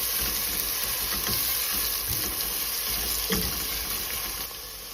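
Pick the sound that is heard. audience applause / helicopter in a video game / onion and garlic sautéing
onion and garlic sautéing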